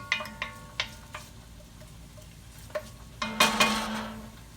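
Onions and garlic cooking down in a pan for spaghetti sauce: scattered sharp clicks and taps of a utensil on the pan over a soft sizzle, ending in a louder flurry of scraping and stirring.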